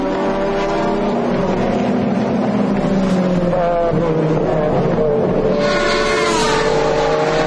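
Ferrari and Maserati GT race cars competing at the 2004 FIA GT Championship round in Dubai, loud engine roars with rising and falling pitch as they pass close by, one car shifting up near the end.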